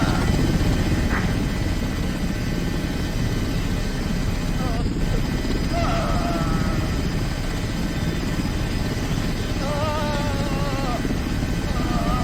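A rescue helicopter waits on scene at a construction-site injury response, its rotor and engine giving a loud, steady thudding drone throughout while people talk over it.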